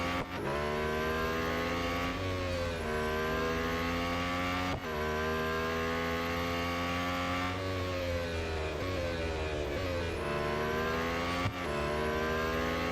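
Lotus Emira GT4 racing in Real Racing 3, a loud continuous engine drone that rises and falls with each gear change and lift for braking, close and steady throughout with no talk over it.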